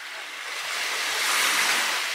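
Ocean waves wash onto the shore of a quiet remote island beach, a steady airy hiss of surf that swells slightly and holds, close and fairly loud with no talking.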